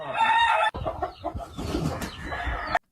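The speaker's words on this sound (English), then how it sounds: "They're Africanized game hens, right?" Africanized game hens cluck and squawk close by in a busy, overlapping flurry, with a sharp higher call at the start and scattered farm noise under the birds.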